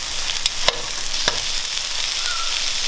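Bacon and onions frying in a pan, a steady close sizzle throughout with a couple of sharp scraping or clinking knocks near the start.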